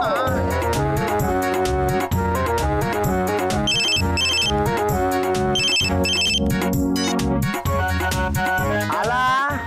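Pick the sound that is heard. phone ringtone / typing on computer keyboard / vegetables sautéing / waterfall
phone ringtone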